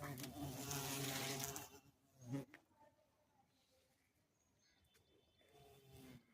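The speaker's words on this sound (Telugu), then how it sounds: "ఈ పురుగులు పువ్వుల్ని చూసారా ఎలా వాళ్తాండాయో జోరీగులు అంటారు వీటిల్ని" Horseflies buzz around flowers on garden plants. A loud, close buzzing fills the first two seconds, then fades to quiet, and a fainter buzz returns near the end.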